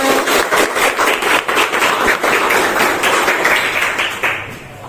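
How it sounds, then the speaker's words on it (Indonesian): A classroom of students applauds together during a teacher-training practice lesson, a dense burst of hand claps that stays steady and close for several seconds before tapering off at the end. "Tepuk tangan untuk kita semua"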